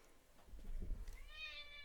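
A house cat gives a single faint, rising meow near the end, after a low, muffled rustle and thump nearby.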